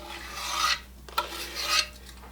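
A spatula rasps twice against a mixing bowl, scraping out a sticky brown sugar and brown butter mixture, each stroke a close, drawn-out scrape with a brief knock between them.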